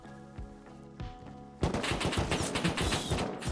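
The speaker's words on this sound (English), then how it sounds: "I died to an AK." AK rifle gunfire in the survival game Rust, a loud rapid burst of automatic shots erupting after a brief quieter stretch, continuing densely to the end.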